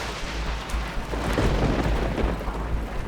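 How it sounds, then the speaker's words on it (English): Thunder rumbling low and heavy with rain hissing during a wet car race in Australia, a deep roll swelling through the middle under a steady wash of rainfall. "The lightning strikes just a few feet away, terrifying our driver."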